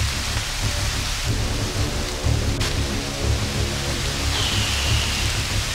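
Steady heavy rain falls on a bivouac camp in stormy weather, a continuous close wash of drops with low rumbling beneath and no talking.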